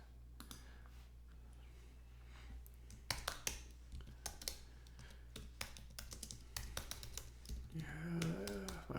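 Typing on a computer keyboard, sharp clicky key taps arriving in irregular quick bursts over a low steady hum, fairly close and quiet, with a brief voice near the end.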